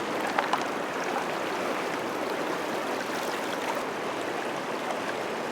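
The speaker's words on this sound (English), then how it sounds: "Your next step is to carefully lift your Sluice Fox evenly out of the water." Water streams and splashes steadily off a Sluice Fox modular sluice box as it is lifted evenly out of a stream, a continuous broadband rush of draining water with no voices.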